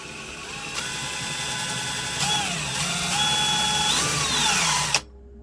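A power tool whirs steadily for about five seconds while a stud is screwed into a Ruger Mini-14 part, with the pitch dipping and rising under load before it cuts off abruptly.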